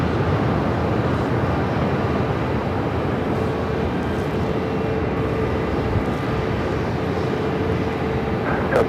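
Airbus A321 airliner at Phoenix airport, a steady loud broadband engine roar holding at constant strength for the whole stretch, with no pauses or clear approach or fade.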